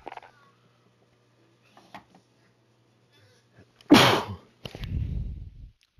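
One loud, close sneeze bursts out after near silence, followed by a breathy exhale, with faint voice chatter from an online game in the background.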